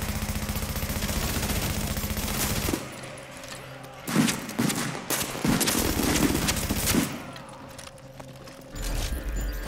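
Assault rifle fire in The Division, a loud continuous burst for about three seconds followed by repeated shorter bursts and a final burst near the end, with no talking.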